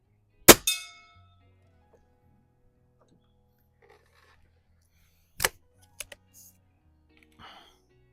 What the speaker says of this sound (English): I have my aluminum gong at 25 yards